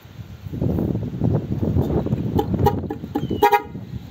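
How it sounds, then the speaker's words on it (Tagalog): Short dual-horn toots on an electric bike sound close by over steady wind and motor noise, with a couple of sharper blasts near the end. "yung itong busina ko na dual horn, pag inon ko naman siya"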